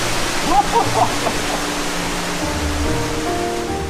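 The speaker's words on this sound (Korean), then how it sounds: "안으로 들어갈수록 점점 커지는 물소리" Water rushes loudly along a walking trail in Galilee, Israel, a steady close roar of flowing stream noise with brief faint voices early on.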